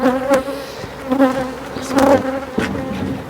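A honeybee swarm buzzes steadily at close range as it is transferred into a small nucleus hive, the dense insect drone rising and falling with a few louder surges, with no voices.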